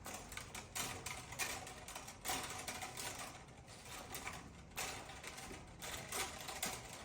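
Green wire nut twisted onto electrical wires in a switch box, a faint, close series of rapid clicking and scraping ticks coming in short bursts, with no talking.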